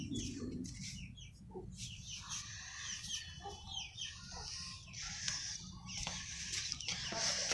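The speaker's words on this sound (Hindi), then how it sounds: "हमारी मुर्गी कुड़क हो चुकी है" A broody hen clucks repeatedly in a sheltered coop, the low murmuring calls steady and fairly faint, with bird chirps and farmyard rustle around it.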